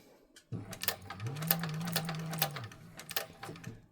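Sewing machine stitching a bag lining, a short run of rapid mechanical stitching that starts abruptly and holds steady for about two seconds before stopping, close and moderately loud.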